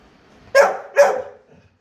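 A Labrador barks twice in quick succession, loud and close, each bark short and sharp with a brief tail, against a quiet indoor background.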